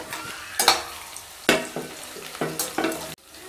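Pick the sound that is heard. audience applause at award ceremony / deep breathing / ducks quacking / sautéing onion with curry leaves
sautéing onion with curry leaves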